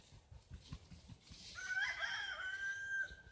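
Chickens in a backyard run let out a loud, drawn-out crowing call that lasts over a second, preceded by soft, low clucks and scratching close by.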